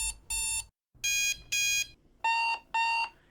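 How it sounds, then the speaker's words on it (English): Free-licensed alarm clock samples ringing in repeated bursts, each a loud, bright electronic tone lasting about half a second with short gaps between, heard alone with no talk. "I found these cool alarm clocks"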